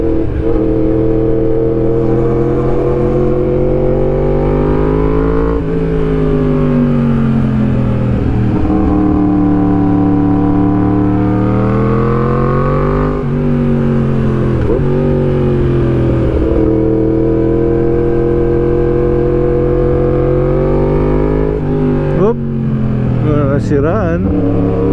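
A motorcycle rides along a rural road in Bukidnon, its engine droning loudly and steadily throughout. The pitch rises and falls with gear changes and throttle, and a voice talks over the engine for most of the ride.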